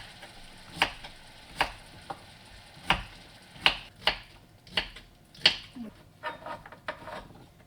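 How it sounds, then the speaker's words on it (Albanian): A knife chopping zucchini on a board: about a dozen crisp, evenly spaced cuts at a steady, unhurried pace, close and clear with no talking. "Presim kungulleshen."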